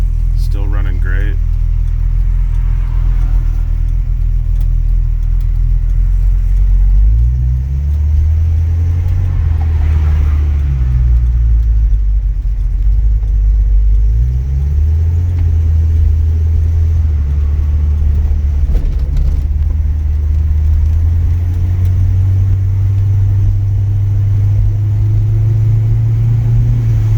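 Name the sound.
1955 Chevy hardtop with Holley EFI accelerating on road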